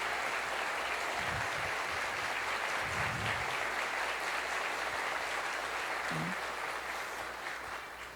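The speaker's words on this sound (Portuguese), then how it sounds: "nós pudéssemos dar uma salva de palmas" A church congregation at an Easter Vigil Mass applauds steadily throughout, a dense wash of clapping hands at even loudness that tapers slightly toward the end.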